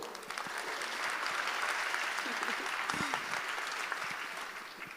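Applause from a conference audience at an inaugural plenary session, as the crowd welcomes a speaker with a broad, sustained patter of many hands, fairly soft and distant and steady throughout.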